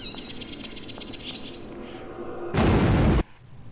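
A sudden loud burst of noise, an explosion in The Witcher 3, cuts in for under a second after quieter chirpy background sounds, then drops away.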